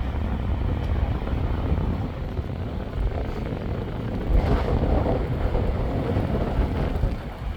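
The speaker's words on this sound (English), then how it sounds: "I'm trying to block the speakers from the wind." Wind buffeting a microphone beside a creek in winter, a steady rumbling roar with surges partway through, flowing water faintly mixed underneath.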